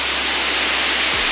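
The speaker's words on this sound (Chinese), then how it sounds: "算是一个非常清凉的一个瀑布哦" Steady broadband roar of a waterfall seen from its base beside a rice field in Fuli, Hualien, Taiwan, a tall drop of over 100 metres with a shallow pool, close and continuous with no voices.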